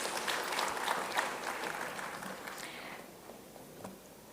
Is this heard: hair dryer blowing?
no